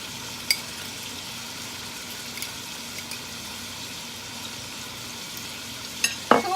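Paprika and salt are stirred into hot oil in a frying pan in a Lao kitchen, giving a faint steady sizzle with occasional clinks of a utensil and a scraping stir at the end.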